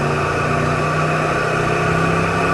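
A 1987 Oldsmobile 442 with T-tops accelerating harder on a test drive, heard from inside as a steady, loud low engine drone with a sustained hum and no speech.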